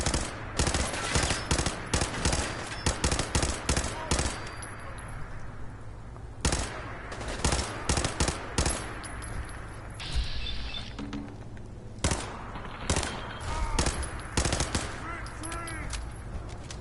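Gunfire in Fallout 4 as rapid bursts of sharp, loud shots crack in irregular clusters, broken by short lulls and mechanical clicks, with occasional talk in between.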